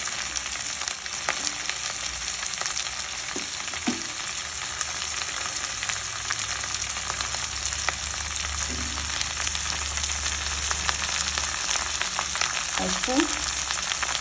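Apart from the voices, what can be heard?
soaked chana dal frying in pan with ponnaganti greens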